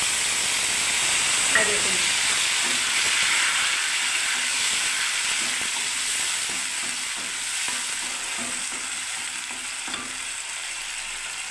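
Garlic, onion and ginger paste frying in a hot pan, a loud continuous sizzle and hiss with faint stirring scrapes, while a voice speaks briefly over it.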